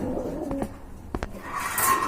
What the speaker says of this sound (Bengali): দেখতে পাচ্ছেন একজোড়া আফসান গ্রিজেল কবুতর মাশাআল্লাহ।